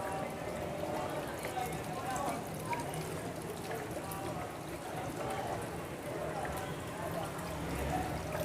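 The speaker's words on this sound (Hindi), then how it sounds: "दो गिलास इसके अंदर मैं पानी ऐड करूँगी।" Two glasses of water are poured into a cooking pot for a carrot and mutton curry, producing a steady, rushing splash of liquid that runs for several seconds alongside a voice.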